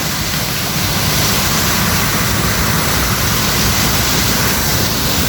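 A roadside waterfall beside the highway in Lumban, Laguna, near Laguna Bay, pours down in a loud, steady, close rush of water that fills the whole moment without a break.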